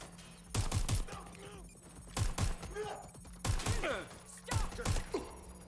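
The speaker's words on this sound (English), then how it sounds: "Taking fire!" Bursts of automatic gunfire in Watch Dogs: Legion, four loud volleys of rapid shots with impacts and debris in between, sounding close and punchy.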